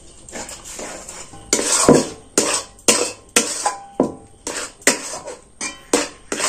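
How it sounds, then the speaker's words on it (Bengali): Chhena for sandesh being stirred in a pan, a rhythmic run of close, sharp scrapes and clacks of a utensil against the pan, roughly one every half second, with a faint background hiss. "যে ছানাটা মেখে রেখেছিলাম সেটা দিয়ে দিচ্ছি। এবারে ভালো করে এটা নাড়াচাড়া করে নেব।"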